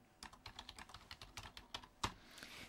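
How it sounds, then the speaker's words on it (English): Rapid typing on a computer keyboard, a steady run of close, crisp key clicks with one sharper, louder keystroke near the end, heard alone without talk. "typing it up before we go"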